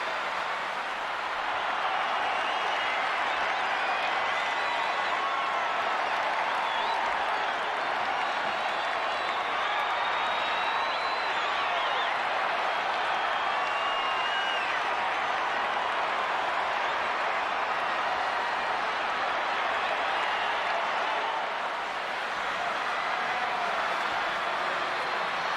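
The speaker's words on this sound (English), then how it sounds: "just listen to that crowd" A large wrestling arena crowd in the video game WWE 2K24 roaring and cheering continuously, a dense sustained wall of voices with faint whistles, steady and loud throughout.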